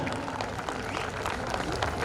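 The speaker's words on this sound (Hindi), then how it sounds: "जोरदार तालियां।" Audience applause for a guest at an NCC award ceremony stage programme, steady crowd clapping throughout with voices mixed in underneath.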